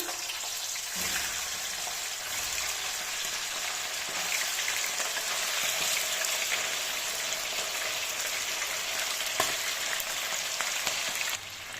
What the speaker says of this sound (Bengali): চিকেনকে হাই হিটে ফ্রাই করব।